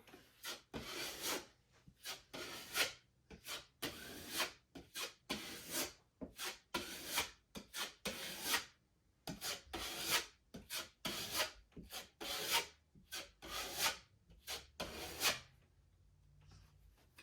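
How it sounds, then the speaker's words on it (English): Repeated rough scraping strokes of joint compound being wiped off drywall around a patch, in a steady back-and-forth rhythm, close and fairly loud, with short pauses between passes. "you're wiping that clean off so there's no excess mud around your patch"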